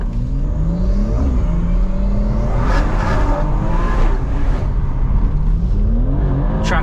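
A 580hp big turbo BMW M240i with traction control off spins its wheels in second gear on a night drive, giving a loud steady engine roar with rising revs and tyre whine, heard from inside the car without talk.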